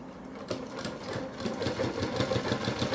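A Merit sewing machine stitches fabric, its needle chattering in a steady rapid rhythm that runs throughout, close and fairly loud, with a brief pause near the start before the stitching picks up again.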